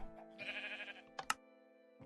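A Minecraft sheep spawned from a spawn egg bleats once in a clear, near, sustained bleat, followed by a couple of short clicks, over a faint steady background tone.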